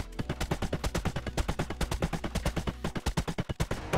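Rapid automatic gunfire in the video game 7 Days to Die, a long unbroken burst of loud, closely spaced shots with no talk over it.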